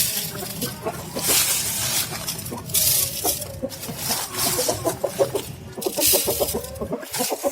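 Desi chickens clucking steadily in a rhythmic, overlapping stream of short calls, fairly close and alone, with a light clink now and then.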